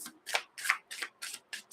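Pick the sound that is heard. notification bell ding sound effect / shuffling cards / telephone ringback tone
shuffling cards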